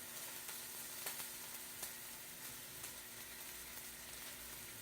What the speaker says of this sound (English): you can hear it sizzle as it's cooking